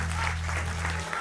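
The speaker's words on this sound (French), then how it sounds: "On peut faire un petit applaudissement à Hawkeye quand même, hein." Audience applause at an evening gathering in France: a steady, dense round of crowd clapping that fills the whole moment, with a low hum running underneath.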